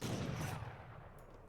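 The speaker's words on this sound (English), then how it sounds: "These Abans just tanking that skirmisher shot." Volley of skirmisher shots in a real-time strategy game striking tanky Abans units: a dense, loud burst of crackling projectile impacts that thins out and fades over about a second and a half.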